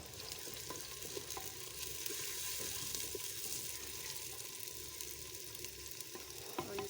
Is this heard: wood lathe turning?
no